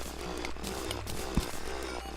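A drill digs through ground in the video game Terraria, a steady buzzing grind that rattles continuously, with a brief louder knock partway through.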